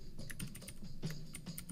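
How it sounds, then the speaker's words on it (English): Rapid, irregular clicking of keys on a computer keyboard, close and fairly quiet, with uneven bursts of keystrokes and no voices. "Typing. I do it well."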